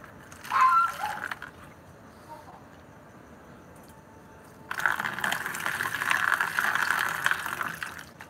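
Clean water poured out for raccoons feeding at night, a splashing burst near the start, then a steady, louder gush of liquid running through the second half.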